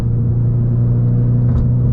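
A 2019 Ford Mustang EcoBoost engine pulls steadily at half throttle with a deep, continuous rumble and a strong low drone. The sound is loud and close, heard from inside the car, with no talking.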